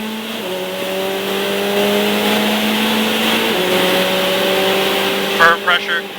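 A Ferrari 488 Challenge Evo race car engine drones loudly from onboard as it accelerates on track, pitch climbing through one gear, then dropping at an upshift and climbing again, with a voice briefly speaking near the end.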